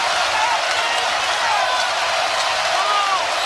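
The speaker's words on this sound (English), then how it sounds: "And they've got the crowd back into it as well." A college basketball arena crowd at an Auburn versus Alabama game roars steadily and loudly throughout, a dense wash of cheering with a commentator talking over it.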